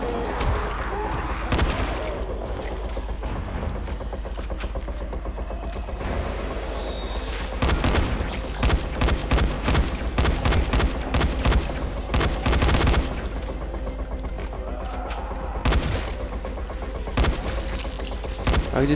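Rapid bursts of gunfire in the video game Dying Light crackle loudly, with dense volleys and sharp repeated shots over a constant electronic background.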